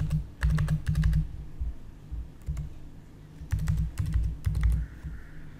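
Bursts of typing on a computer keyboard while entering one-time passwords for a GST registration form, clustered key clicks in short rhythmic runs separated by pauses, close and clear with no talk.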